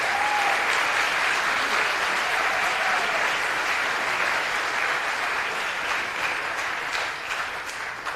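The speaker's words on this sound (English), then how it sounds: "Let's give them a round of applause." Audience applause for the third-place Michigan car team at a Formula SAE EV design review and awards ceremony: sustained, even clapping from a large crowd that holds strong for several seconds, then tapers slightly near the end.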